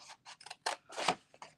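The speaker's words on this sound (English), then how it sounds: "I can just go in with my scissors," Scissors cutting cardstock for a handmade card: a quick series of crisp snips and paper rustles, close and moderately loud, about eight cuts in under two seconds with no talking.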